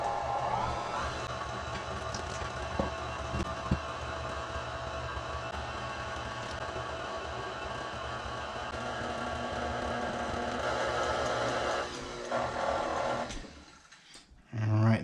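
An electric mixer running on low churns a batter of milk and flour with a continuous whirring hum for several seconds before cutting out near the end, close to the microphone.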